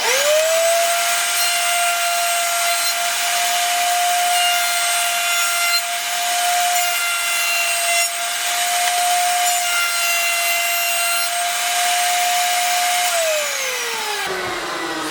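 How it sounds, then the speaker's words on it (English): A router table fitted with a 1/4 inch round over bit shapes wooden edges, whining at a steady high pitch for about thirteen seconds with a rough cutting hiss before spinning down at the end. "I'm using a 1/4 inch round over bit in my router table."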